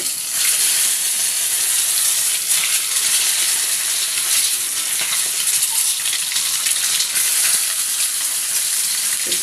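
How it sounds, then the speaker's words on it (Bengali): Six eggs frying in hot oil in a wok make a loud, close, continuous sizzle with a hissing, crackling texture that stays unbroken throughout. "এবার আমি ডিমগুলোকে ভেজে নেব। এই 6টা ডিমকে ভেজে নেব লাল লাল করে।"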